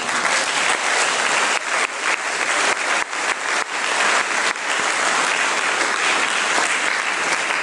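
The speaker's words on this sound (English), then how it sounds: "Let us give them a round of applause." A large audience at a school musical play concert claps loudly and steadily, a dense, sustained round of applause with no voices rising above it.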